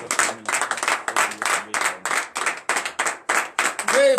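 A church congregation at a morning prayer service claps in a steady rhythmic beat, loud and close, with a voice briefly rising near the end.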